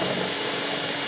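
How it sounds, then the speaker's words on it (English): A loud, steady whine of a power drill drilling out a rivet, running continuously at close range, with no pauses or voices. "so we got to drill it on out."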